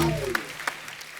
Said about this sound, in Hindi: एक बार विकी डोनर के लिए जोरदार तालियां हो जाए।